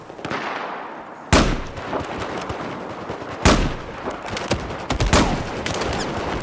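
Machine gun fire in Battlefield 4 comes as loud, sharp bursts over a dense rattle of continuous gunfire, with several heavy cracks standing out from the barrage.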